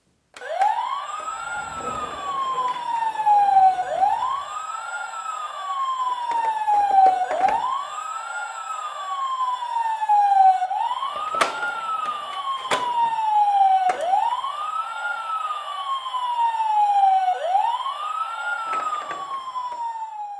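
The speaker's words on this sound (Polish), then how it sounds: "Będzie to samochód, a tak naprawdę będzie to samochód policyjny od firmy Dicky Toys." A Dickie Toys silver police van toy plays its electronic siren, a loud rising-and-falling wail repeating about every three seconds, with occasional clicks and no talk.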